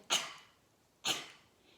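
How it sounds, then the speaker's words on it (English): Two sharp, forceful coughs about a second apart, each a short burst fading quickly, close and loud with quiet between them. "so we'll do that cough"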